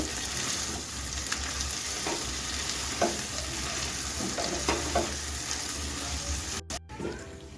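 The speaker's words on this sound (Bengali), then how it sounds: "চিনি দিয়ে দিচ্ছি একটু ভালো করে কষিয়ে নিচ্ছি" Potatoes with sugar stir-fried in a pan on low to medium heat for aloo posto, a steady sizzle broken by repeated scraping stirs of the spatula and a brief running-tap splash near the end.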